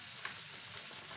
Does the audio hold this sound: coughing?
no